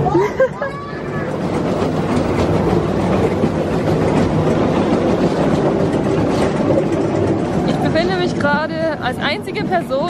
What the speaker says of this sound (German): sondern wirklich als einzige Person in einer Kindereisenbahn und fahre hier meine Runden